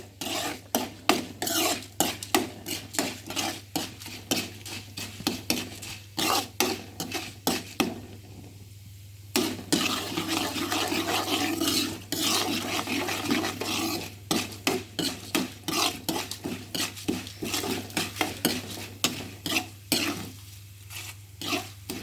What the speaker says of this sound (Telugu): గింజలు తాలింపు గింజలు వేగుతున్నాయి